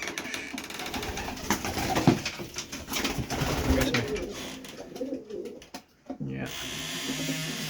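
Racing pigeons cooing in their loft after returning from an old-bird race, a steady layer of soft, rolling coos at close range, with someone briefly speaking and some mechanical whirring.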